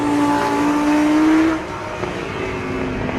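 A Lamborghini Huracan with a 602-horsepower V10 engine drives on a race track, its engine a steady loud drone with a rising tone that eases off midway, continuous throughout without talk.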